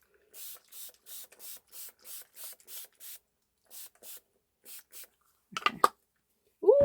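A spray bottle spritzes water over a palette of watercolour paints in about a dozen short, evenly spaced bursts, close and crisp, followed by a few handling noises and a brief voice at the end.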